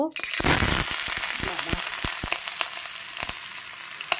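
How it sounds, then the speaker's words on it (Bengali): Chunks of potato and kohlrabi hit hot oil in a kadai with a loud burst of sizzling that settles into steady frying crackle, punctuated by sharp spatters and a few clinks of a stirring utensil. "আলু আর ওলকপিটা দিয়ে দিলাম ওটা আমি ভাজতে থাকবো"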